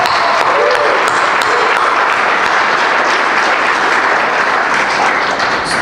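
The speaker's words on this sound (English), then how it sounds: "Just give it a round of applause." A crowd at a book launch event gives a benefactor a round of applause, dense, steady clapping that stays loud and unbroken throughout.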